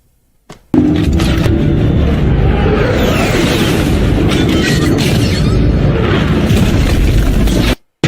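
A sudden loud transformer explosion at Hoover Dam erupts into a sustained, roaring blast of noise that rumbles steadily for several seconds before cutting off.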